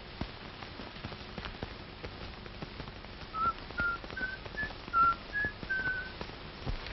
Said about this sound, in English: Listen, somebody's whistling Yankee Doodle.